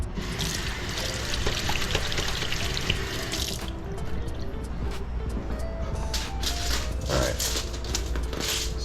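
Tap water runs and splashes onto a kitchen work surface being wetted before pizza making, a steady close hiss that softens midway into intermittent trickles and drips.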